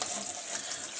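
Liquid pours out of a beer bottle in a short, steady gushing stream, bright and close with no talking.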